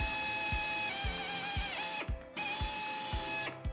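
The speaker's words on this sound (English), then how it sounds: "drill the mounting hole into the frame of the truck" A power drill whines steadily with a rhythmic thumping chatter, stopping briefly twice before spinning up again, boring a mounting hole into the frame of a Ford F-150 pickup truck.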